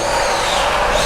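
A Fayee FQD 10 budget RC drift car drifts around a makeshift indoor track, its small electric motor giving a steady, loud whine with tyre hiss throughout, with some room echo.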